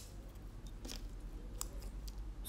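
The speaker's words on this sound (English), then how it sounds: "So first I'm going to cut the spoon." A plastic disposable spoon is cut slowly and carefully. A few faint, crisp snipping clicks are spaced apart over a quiet background.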